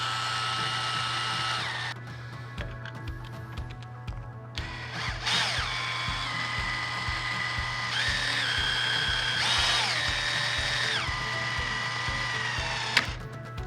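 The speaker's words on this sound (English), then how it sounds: "You just want to tighten the bolt into the threaded insert until it's nice and snug." A power driver runs bolts into threaded inserts in an HDPE epoxy resin table mold. The motor whines steadily with pitch shifts and a fast rattling ratchet, close up, in several bursts with brief pauses between them.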